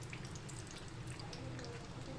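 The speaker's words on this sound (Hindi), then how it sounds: "अब इसे हम स्लो आंच में पहले एक साइड इसका फ्राई होने देंगे, फिर हम इसका साइड चेंज करेंगे।" Dough parathas frying in hot oil in a pan over a low flame, a steady dense crackling sizzle that is soft and continuous throughout.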